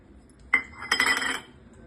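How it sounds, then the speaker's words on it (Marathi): A small metal bowl is pressed into thick wheat-and-jaggery puri dough, giving a sharp metallic clink and then a short scraping clatter against the surface, close up. "आता मी वाटीने कापून घेत आहे"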